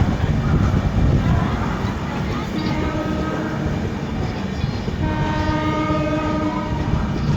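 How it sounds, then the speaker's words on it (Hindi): The Champaran Humsafar Express, running from Katihar to Delhi, rolls past with a continuous loud rumble of wheels on rails, and its horn sounds in sustained tones partway through. "कटिहार से चलकर दिल्ली को जाने वाली चंपारण हमसफ़र एक्सप्रेस"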